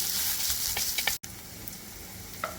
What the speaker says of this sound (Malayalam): ഇത് നല്ലപോലെ വഴറ്റി കൊടുക്കാം